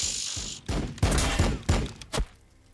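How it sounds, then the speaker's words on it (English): Gunfire in a Warhammer 40,000 battle between Blood Angels and Necrons, a short uneven string of about five sharp, loud shots with brief gaps between them. "Firing on the enemy."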